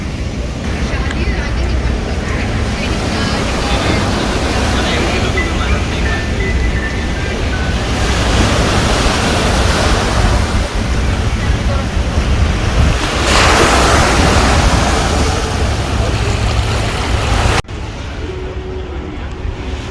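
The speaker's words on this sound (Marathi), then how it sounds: "थोडा वारा आहे भारी वाटत आहे" Wind sweeps across the Exchange Place waterfront in Jersey City, a steady, loud broadband rush buffeting close to the microphone throughout, easing slightly near the end.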